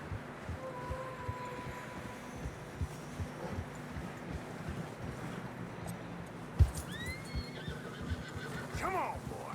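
A horse in Red Dead Redemption 2 whinnies once amid steady wind and hoofbeats crunching through fresh snow, with a sharp thump and another short whinny near the end.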